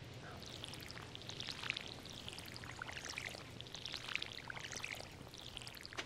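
Watering can pouring over pumpkin crops in the Stardew Valley farming game, a steady splashing trickle lasting several seconds with brighter droplet bursts, moderately quiet and with no talking.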